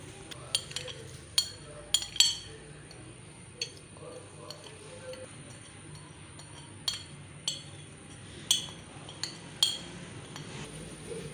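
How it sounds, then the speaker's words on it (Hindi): A spoon stirring spices such as roasted crushed cumin and black pepper into yogurt in a bowl, with light clinks against the bowl at an irregular pace, quiet and close over a soft background hum. "दही में तमाम मसाले को बहुत अच्छे से मिक्स करना है।"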